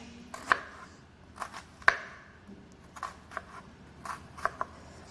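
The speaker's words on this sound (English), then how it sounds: "we're going to take our knife and we are going to make cuts back to the root all the way around our onion" Knife blade making repeated cuts through an onion back toward the root on a cutting board, a series of sharp separate taps spaced irregularly, close and fairly quiet with no talking.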